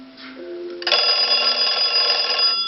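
A push-button doorbell made from an old wooden wall telephone bell sounds a loud, continuous metallic ring lasting nearly two seconds, preceded by a faint hum.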